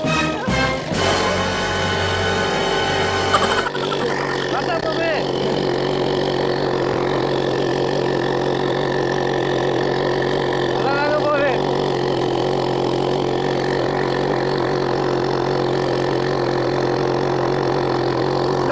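A homemade mini scooter powered by a chainsaw engine runs steadily nearby, its high buzzing drone holding a constant pitch with a brief rev change early on, alone without talk.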